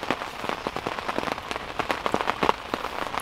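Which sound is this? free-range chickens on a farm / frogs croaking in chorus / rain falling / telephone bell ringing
rain falling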